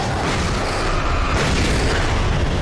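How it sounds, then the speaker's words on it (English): A flashbang grenade goes off in the video game Alan Wake Remastered, a loud, dense boom with a rumbling burst that fills the whole moment without any voices over it. "Flashbang! Flashbang!"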